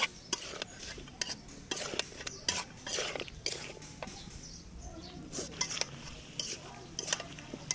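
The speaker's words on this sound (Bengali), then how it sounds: "এখন আমি ফুলকপি আলুগুলো মশলার মধ্যে ভালো মতো নেড়ে চেড়ে নিচ্ছি" Cauliflower and potato pieces being stirred through spice masala in a pan for fish curry, with repeated sharp scraping clicks of a spatula against metal at an irregular rhythm, close up and alone, over a low background hiss.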